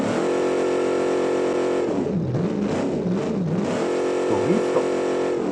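A video game car named Barney drifting, its engine droning loud and steady throughout with wavering pitch shifts as it slides, plus a brief rising whine near the end, with no talk over it.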